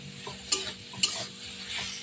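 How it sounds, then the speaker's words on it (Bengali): Papaya and potato curry with turmeric and salt being stirred in a pan: a soft sizzle beneath a few sharp scraping clinks of a spatula against the metal, close by. "এবার নেড়ে চেড়ে"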